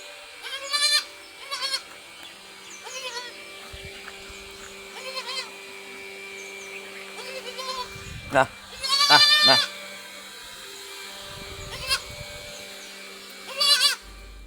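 Crossbred female goat kids bleating in repeated short calls at a farm, some loud and close, with a person talking between and over the cries.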